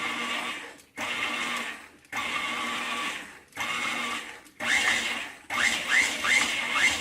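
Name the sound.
food processor pulsing cookie dough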